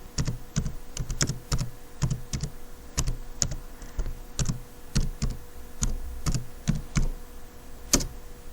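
Rapid key presses on a computer keyboard while an email address is entered to create a GitHub account, a steady close run of light clicks with brief pauses over a faint hum.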